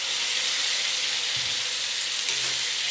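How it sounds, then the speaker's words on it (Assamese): Tomatoes, ginger and garlic fry in a pan with a steady, close sizzle that runs without a break, and a few faint scrapes come through under it. "মোৰ বিলাহী, আদা, নহৰু চবে ভালকৈ ফ্ৰাই হৈ গ'ল"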